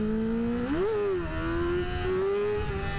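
A motorcycle accelerating through a wheelie on a straight road, its engine note rising smoothly and climbing again steadily, heard close with wind noise and no talking.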